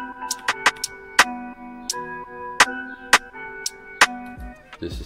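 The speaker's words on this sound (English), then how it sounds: "This is the pattern of the first hat." A first hi-hat pattern in a bouncy hip-hop beat: crisp, irregularly spaced ticks sit over a looping melodic synth line, loud and close with no talking.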